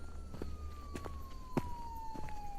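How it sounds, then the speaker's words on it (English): A siren in the horror video game Lost Luminosity, a faint steady tone that slowly falls in pitch, with soft intermittent clicks and thumps around it and no speech. "the siren's getting louder"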